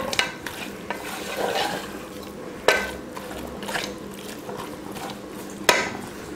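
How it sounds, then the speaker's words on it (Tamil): Mutton being sautéed in masala in a pan for a bone curry, with a soft, steady sizzle and repeated scraping stir strokes, including a few sharper metallic knocks of the spoon against the pan. "இப்போ நல்லா மட்டனை மசாலில் போட்டு நல்லா வதக்கியாச்சு"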